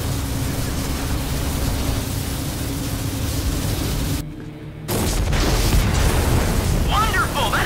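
A sustained, noisy rumble in a video game cuts to near silence for a moment, then a heavy booming explosion erupts, loud and close, trailing into crackling debris.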